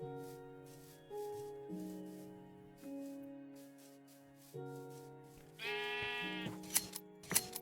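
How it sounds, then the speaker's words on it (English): Several sheep bleats in Minecraft follow one another, long wavering tones at different pitches, then a louder, harsher bleat joined by a few sharp clicks near the end. "finding so many great sheep here too"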